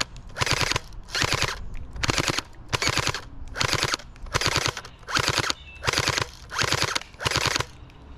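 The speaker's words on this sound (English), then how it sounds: "put it on 3-shot burst, see if I can get all three with one shot" Gel blaster on three-shot burst fires at an auto-resetting target, heard as ten loud, close bursts of rapid snapping shots at an even rhythm with short gaps between.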